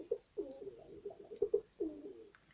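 Domestic pigeons coo in a loft, a run of soft, low, throaty coos repeating in close succession, fairly near and clear with no talking.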